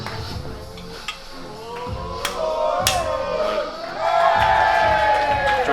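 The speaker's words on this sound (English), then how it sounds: "Crowd here are behind Jordan." A wrestling show crowd cheers and chants loudly in an indoor venue, rhythmic claps and shouts swelling toward the end, with a commentator's voice running underneath.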